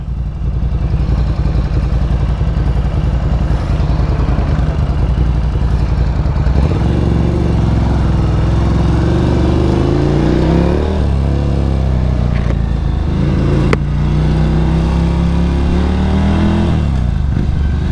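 Ducati Scrambler motorcycle with its exhaust, engine revving hard and rising in pitch in repeated climbing bursts after a steady running start, loud and close with no talk.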